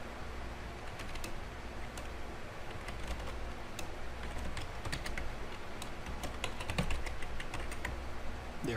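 Steady clicking of keys on a computer keyboard while a password is entered, a fast irregular patter over a constant background hum, with no talking.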